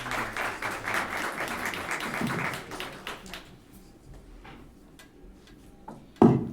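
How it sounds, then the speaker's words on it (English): Audience clapping at a public school board meeting, a dense burst of applause for about three seconds that thins into a few scattered claps and fades, ending with a sharp knock. "And that sort of clapping is totally welcome."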